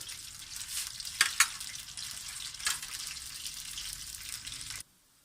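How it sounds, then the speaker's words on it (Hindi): Onion and tomato paste sizzles steadily in hot ghee, a continuous bright frying hiss with a couple of sharper spits and stirring scrapes before it cuts off abruptly near the end; no talking. "इसका पेस्ट को बहुत अच्छी तरह से हम इसको भूनेंगे घी के अंदर 5 से 10 मिनट के लिए"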